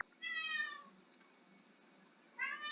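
A house cat meows twice, a drawn-out close call followed by a short pause of quiet and then a second rising meow, heard alone with no talking.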